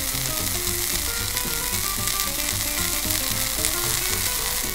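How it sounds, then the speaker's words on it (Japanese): Ginkgo nuts sizzle and crackle steadily with salt in a hot pan, a continuous close frying hiss with no voices. "このぐらい水分が飛んできたら塩を足して煮ていきます"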